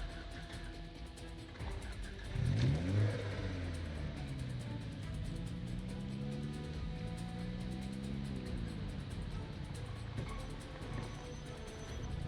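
A car engine in the zombie survival game Project Zomboid revs up and down in rising and falling sweeps over a steady low drone, with a louder burst early on, heard alone and fairly quiet.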